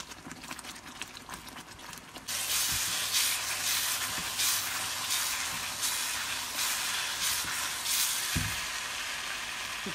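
Semolina roasting in oil in a pan for Bengali suji halwa: a steady, loud sizzling hiss begins after a quieter stretch and continues throughout, with a soft scrape near the end.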